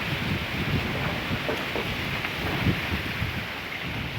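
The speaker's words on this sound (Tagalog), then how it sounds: "Sobrang lakas ng hangin guys." Strong gusty wind blowing across a dry cornfield in stormy weather, a continuous broadband roar buffeting the microphone, with rustling and no speech.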